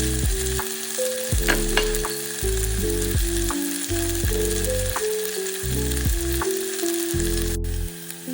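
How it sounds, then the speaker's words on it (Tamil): Onions with fennel and fenugreek seeds sautéing in a pan, an even sizzle with occasional ladle taps, overlaid by a loud tonal hum that shifts in pitch every second or so. "வெங்காயம் வதங்கி கொண்டிருக்கு"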